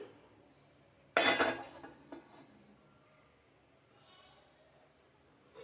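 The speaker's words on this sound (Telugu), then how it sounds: "స్టవ్ వెలిగించి ఇదే కడాయి పెట్టుకొని" A metal kadai set down on a stove for cooking masala gives one sharp clanking clatter, with a smaller knock after it, in an otherwise quiet kitchen.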